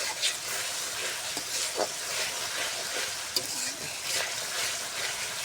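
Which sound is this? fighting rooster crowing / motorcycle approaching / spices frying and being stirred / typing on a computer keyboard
spices frying and being stirred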